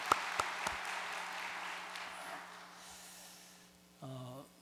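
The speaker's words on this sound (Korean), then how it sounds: "우리 식구님들께도 박수를 한번 보내겠습니다" Congregation applause during a Sunday worship service fills the hall as sustained clapping with a few sharp close claps at the start, fading gradually before a voice begins speaking at the end.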